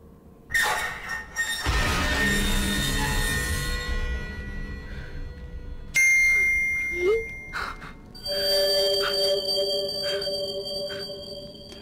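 A burst of phone notification sounds plays loudly, overlapping chimes, dings and sonar-like electronic tones in quick succession, with no voices.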